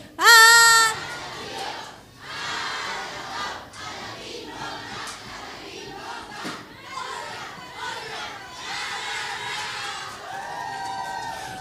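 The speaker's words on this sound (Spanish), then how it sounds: "les den una fuerte porra y un aplauso" A studio audience at a televised singing competition final erupts in a loud shout, then keeps up a chorus of cheering and applause with children's and adults' voices mixed throughout.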